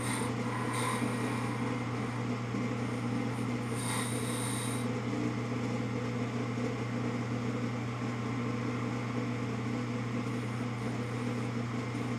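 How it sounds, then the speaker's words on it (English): A skew chisel cuts wood on a turning lathe, producing a steady mechanical hum overlaid with soft rasping and rubbing, plus a few brief higher scraping bursts early on. "I switched from bowl gouge to a skew, not the easiest of tools to master."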